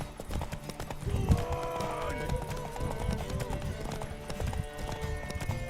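Horse hooves clip-clop steadily in The Witcher 3, a quick rhythmic trot heard close and fairly loud, mixed with game ambience, music and spoken voices.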